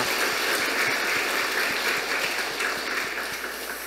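A church congregation applauds after a Sunday sermon prayer. The broad, steady wash of clapping fills the room, with a faint regular ticking running beneath it throughout.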